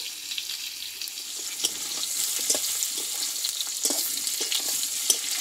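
Pointed gourd frying in mustard oil in a pan, a steady close crackle and sizzle with soft stirring scrapes, alone without talk.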